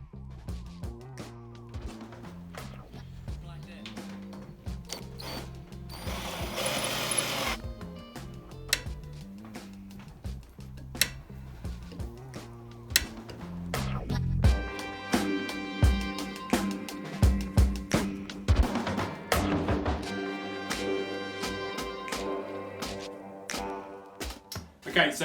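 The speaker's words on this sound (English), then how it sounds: "the die is going to cut the external thread, effectively making like a bolt" A die cuts an external thread onto a 6mm brass rod by hand, giving irregular clicking, scraping taps in uneven bursts, close and fairly loud, growing busier toward the end.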